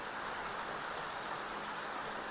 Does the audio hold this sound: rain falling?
yes